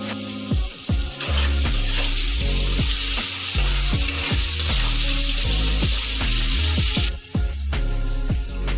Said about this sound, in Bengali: এবার আমরা টমেটো কুচিটা দিয়ে দেবো।